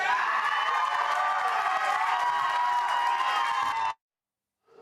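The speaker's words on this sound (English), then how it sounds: "Missouri Congressman Mark Alford was booed and heckled at one yesterday" A town hall crowd jeers and shouts at a Missouri congressman, a dense, loud roar of many voices that cuts off abruptly into silence.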